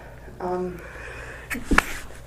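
A short voiced sound is followed by a single sharp, close sneeze.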